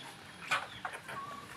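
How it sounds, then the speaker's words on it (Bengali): Sonali chickens in a poultry house give short, faint clucks, a few brief calls over a quiet background hum. "মুরগি, সোনালী মুরগি কী রকম খায়"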